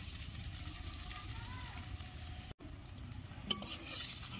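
A paratha fries in a karahi without oil and is turned over. A soft, quiet crackle plays with a few light scrapes and a brief clink near the end.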